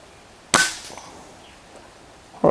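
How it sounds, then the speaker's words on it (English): SDB Sniper nitro piston air rifle firing a single sharp crack, followed by a brief ringing decay, with the start of a second sharp sound at the very end. "Let's take this as the last shot of the day."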